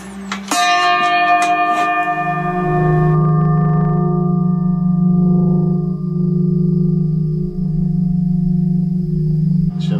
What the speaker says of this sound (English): Oh yeah, they are church bells.